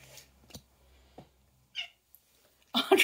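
A cat meows in a few short, scattered cries, close and moderately loud with quiet gaps between them, and a louder burst of sound at the end.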